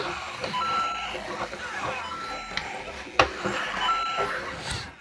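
A LEGO Mario Kart Standard Kart toy plays a busy stream of electronic driving effects, with beeps and chirps over a steady hum and a sharp clack partway through.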